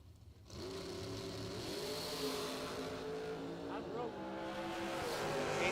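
Bracket drag racing dragsters staging at the strip, engines droning and revving with throttle pumping, a steady loud roar building over several seconds with a rising rev sweep near the end, under a public-address announcer's voice.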